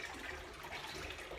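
Hot water running steadily into a bowl for washing coned yarn with dish liquid, a continuous soft gushing, close and fairly quiet, no voices.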